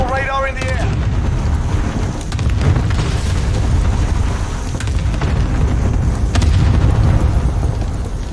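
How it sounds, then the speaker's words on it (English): A cluster strike lands in the video game Call of Duty, a heavy, continuous rumble of booming explosions with sharp cracks scattered through it, loud and close. "Enemy cluster strike incoming."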